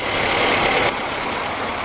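A car engine idles after an anti-wear engine cleaning treatment for oil burning. A loud, steady mechanical drone drops noticeably quieter about halfway through, with no talking.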